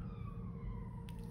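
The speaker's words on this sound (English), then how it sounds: "sorry about the siren, you guys" A siren wails continuously in the distance, a steady sliding tone over low rumbling background noise.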